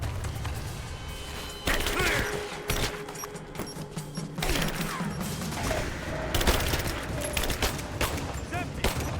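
Video game gunfire in Rise of the Tomb Raider rattles in repeated bursts with sharp cracks and thuds throughout. Players talk over the shooting.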